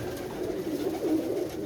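A pigeon coos softly and steadily, close by and on its own, with no talking.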